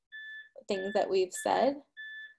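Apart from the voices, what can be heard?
doorbell ringing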